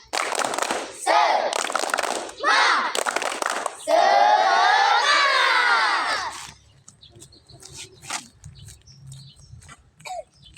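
Fifth-grade schoolchildren in a PE class do a spirit clap chant: loud bursts of rhythmic clapping and group shouts, closing with a long collective cheer, then quieter chatter and a voice afterward.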